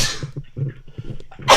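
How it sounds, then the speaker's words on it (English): One big sneeze bursts out loudly near the end, after a stretch of quiet, low murmuring and faint thumps. "Ooh, big sneeze."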